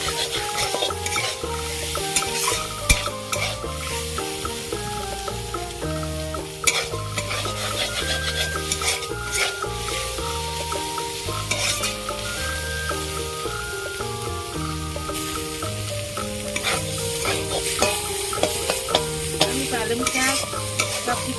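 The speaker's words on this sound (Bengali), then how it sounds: "ভেজে নেব সব কিছু" Vegetables and ground cumin fry in a pan for a Bengali vegetarian thali, with a steady loud sizzle and frequent scraping, clinking strokes from the stirring spoon throughout.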